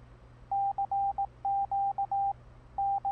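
An emergency alert system alarm tone beeps in short and long steady pulses at a single pitch, an irregular Morse-like pattern, loud and clear over a faint low hum, with no voices.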